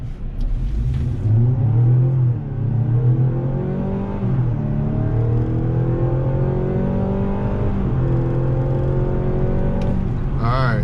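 A Mazda CX-90 SUV accelerates hard from 0 to 60 mph. Its engine drone stays loud and steady inside the cabin, with tones climbing through each gear and dropping briefly at every shift.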